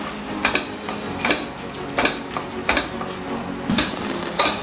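Ginger, garlic and green chili paste fries for chicken biryani in a cooker: a steady close sizzle broken by regular scraping strokes of a spoon stirring the paste against the pot.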